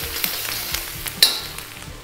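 Green chillies and curry leaves frying in hot oil give a steady close sizzle with light crackles and a sharp spatter about midway, no voices.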